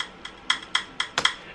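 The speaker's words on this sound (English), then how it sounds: "I used the back of my phone again when I hit the desk" Sharp, bright ticks from the back of a phone striking a desk, used as a hi-hat sample: about six short metallic taps in a loose rhythm, close and fairly quiet, with no voices.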